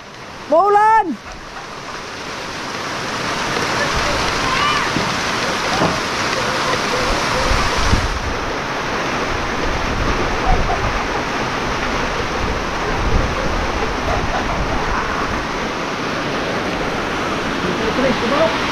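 Heavy rain pours down over an ampalaya field, a dense, continuous hiss-roar close by, with a high voice calling out at the start.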